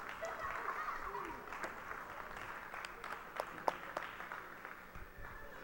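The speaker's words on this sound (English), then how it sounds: "And everyone is clapping around." Crowd at a Waterbury Kennedy versus Kaynor Tech high school game claps for their coach: scattered, fairly distant clapping with sharp individual claps under a murmur of voices and talk.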